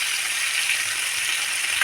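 Chicken frying on high flame: a steady, bright sizzle with light crackling, close and continuous without pause.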